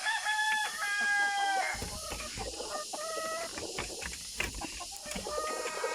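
A red junglefowl rooster crows loudly nearby, then crows again amid clucking and other fowl sounds, with a steady outdoor hiss beneath.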